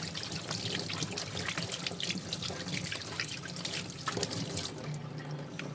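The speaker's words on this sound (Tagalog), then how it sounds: "Ayan, dire-diretso yung tubig niya." Tap water pours steadily into a kitchen sink, a close, continuous splashing stream with small drips and clatter, heard alone without talk.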